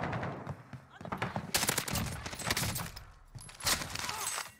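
Rapid bursts of automatic gunfire and single shots crackle through a match of Warzone on Rebirth Island, loud and repeated in several volleys, with a player's voice talking over parts of it.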